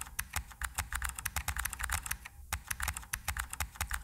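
Fast, steady typing on a computer keyboard, sharp close key clicks in quick irregular bursts with one brief pause midway, no voice over it.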